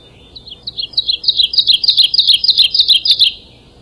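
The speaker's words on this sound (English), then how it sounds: "oh, that's an ovenbird because it makes that nest" An ovenbird sings a repeated two-note 'teacher' phrase about a dozen times, growing steadily louder and faster before stopping abruptly, clear and close.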